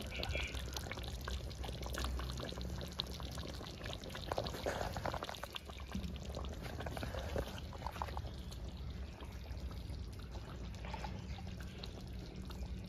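Rose water is poured into chicken chaap as it cooks, a soft, continuous liquid trickle that runs for several seconds at low volume.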